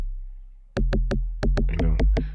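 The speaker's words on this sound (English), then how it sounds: "Arturia and you get this preset called the log drum," Arturia Analog Lab log drum synth preset playing a short pattern of about eight deep, punchy pitched booms with woody attacks, loud and close, with no voice.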